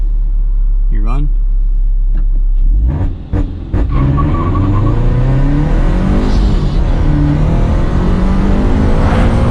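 A supercharged Subaru BRZ on grippy tires launches hard from an idle, its engine rising in a loud, close rev as it pulls away, with a few sharp bursts near the start and sustained acceleration throughout.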